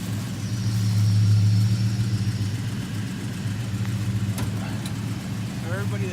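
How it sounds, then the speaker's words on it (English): A 1969 Dodge Charger's engine rumbles at a steady idle, a low, close, continuous drone, while people talk over it. "You're driving a 69 Charger"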